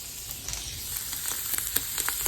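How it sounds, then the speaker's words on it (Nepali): Goat offal for khasiko bhutan fries in hot oil, giving a close, steady sizzle dotted with small crackles and pops. "यो चाहिँ फ्राई हुँदैछ ल गाइस"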